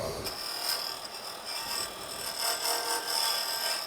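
A hand tool scrapes across wood, peeling it off in ribbons during turning work on a salt shaker, giving a steady, close, rasping hiss that swells and fades slightly with each pass.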